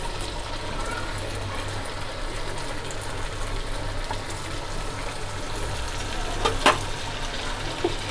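Rava sweet pieces deep frying in oil over a medium flame, a steady soft bubbling hiss that runs evenly throughout, with one brief clink of a utensil near the end.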